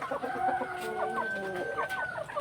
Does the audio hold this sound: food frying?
no